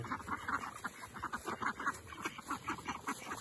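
Ducks quack in a yard, a rapid run of nasal calls pulsing in quick succession at moderate distance, with no talk over them.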